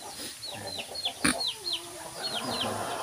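Ornamental ekor lidi chickens cluck in a short series of bright, repeated calls, close and moderately loud over a quiet farmyard background, with one sharper burst near the middle.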